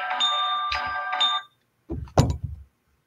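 A phone ringtone plays a melodic tonal ring for about 1.4 seconds and stops, followed after a short gap by a brief burst of muffled movement or handling noise.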